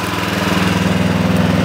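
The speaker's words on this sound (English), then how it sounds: "Being a petrol engine, it's a little bit noisier" A Digger King T15 mini loader's petrol engine runs steadily at close range, a loud, even mechanical drone with a rapid pulsing throb and no voices.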